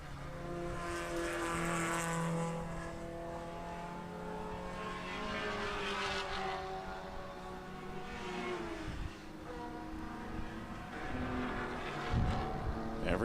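Race cars in a Group 5 event at the 2014 O'Reilly Auto Parts Grand Prix scream past as the leaders lap a Miata, their engines whining and shifting pitch as they accelerate and pass, loud and continuous.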